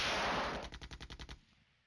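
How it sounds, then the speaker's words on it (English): Artillery guns fire in the Flashpoint Campaigns: Red Storm war game. A loud roaring blast gives way to a rapid, evenly spaced string of about eight punchy reports that then falls quiet. "And the big guns firing where we used to be."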